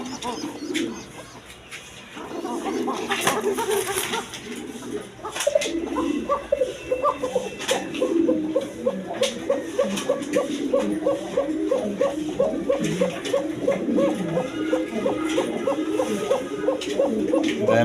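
A pair of pigeons, a male and a female kept with their chick, coo in soft, repeated rolling calls close by, steady and rhythmic, with someone talking over them at times.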